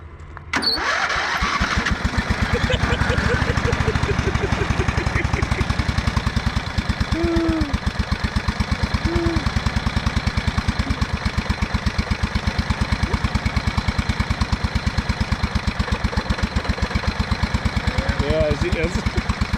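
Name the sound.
old lawn mower engine starting and running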